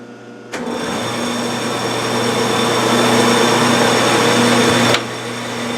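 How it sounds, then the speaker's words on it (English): A lathe cuts a chamfer on a knurled nut held in a collet, a steady loud machining whir with a sustained hum that starts abruptly and stops after about four and a half seconds. "We will start by putting a chamfer on and then do the power tapping."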